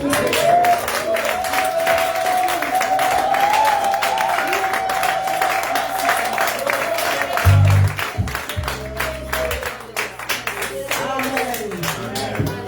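A church congregation at a prayer vigil claps and applauds in acclaim of Jesus, a steady, dense wash of hands sustained throughout, with a low sustained tone and voices mixed beneath.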